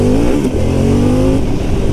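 A 2021 Harley-Davidson Pan America adventure motorcycle's engine revs loud and close, a continuous throaty drone with its pitch climbing and settling.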